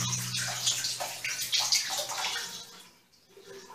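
Water gushes from a household tap in a steady hiss and splash, then fades as the flow is shut off, leaving near quiet at the end.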